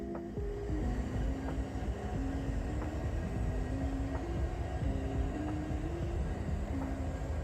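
Union Pacific locomotive 4091 rumbles past at night with a steady, heavy low roar that holds constant throughout, with faint metallic clicks recurring at intervals and no talking.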